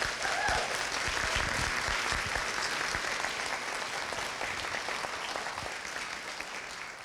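Sustained applause from an indoor audience welcoming the speakers at an artist talk, a steady wash of many hands clapping that carries on evenly without pause.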